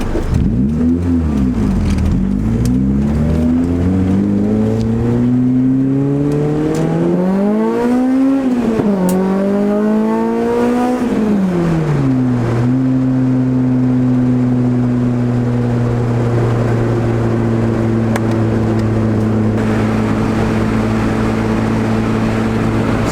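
Turbocharged Honda Del Sol engine pulling hard through the gears into VTEC, loud and close from inside the car, its droning note rising with each shift before settling into a steady cruise.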